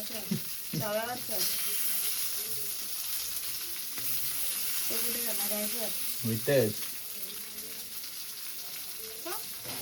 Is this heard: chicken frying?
yes